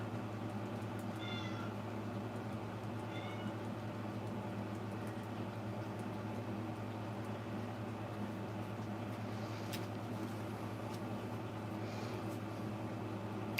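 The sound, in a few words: cat meowing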